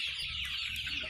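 Farm chickens cluck and squabble nearby while crowding around a small feed tray, a busy overlapping chorus of short clucks and squawks.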